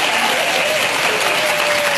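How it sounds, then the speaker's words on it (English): A studio audience on a live morning talk show breaks into sustained, dense applause that holds at a steady, loud level for the whole stretch with no letup. "That was such a weird extended applause for no reason."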